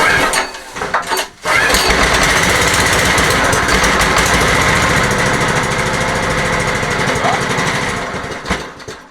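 Chinese pit bike engine sputtering briefly, then catching and running at a loud, steady, rattly idle close by, a few faint words spoken before it starts.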